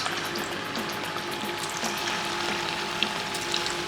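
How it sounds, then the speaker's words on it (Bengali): Potato and egg koftas fry in hot mustard oil with a loud, dense, continuous crackling sizzle and a few small pops, heard close up with no voices. "সরষের তেল দিয়ে ভাজবো আমি।"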